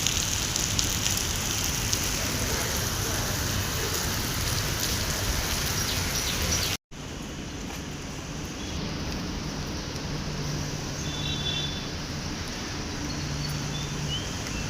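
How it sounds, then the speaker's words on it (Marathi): Steady, dense rain pours down outdoors near the street, close and loud, with a brief cut midway before the downpour resumes slightly softer and just as continuous. "पाऊस पडतोय, मी पण पावसामध्ये भिजतोय जरा."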